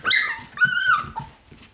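Cavapoo puppies whimper and yip in high, thin, close cries, a few short whines and a bark rising and falling over about two seconds, with no talking.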